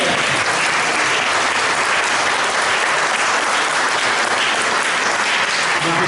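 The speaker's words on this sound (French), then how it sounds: "Merci de les applaudir" Loud, continuous applause from an audience at a twin-cities gathering in Auxerre, dense and unbroken throughout.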